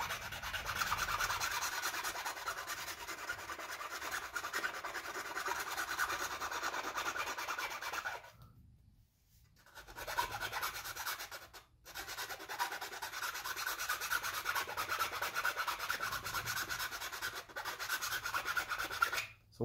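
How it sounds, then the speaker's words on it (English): Steady rasping of a file scraping across small grills on a 3D-printed plastic Darth Vader costume part, continuous strokes with two brief pauses, close and fairly loud, no voices. "I'm just going to file those little grills down real quick"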